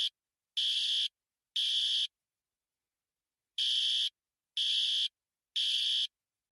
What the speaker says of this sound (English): I am going to pull down the fire alarm